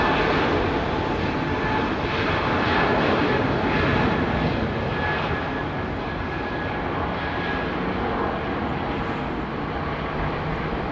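A Boeing 737 taxis toward the runway at Heathrow, its jet engines making a steady, loud broadband roar that holds evenly throughout with no voices.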